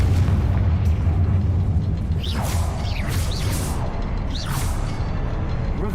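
Confringo explosive spell blast in Hogwarts Legacy, a sustained booming rumble with whooshing, creaking sweeps and crackles rolling over several seconds.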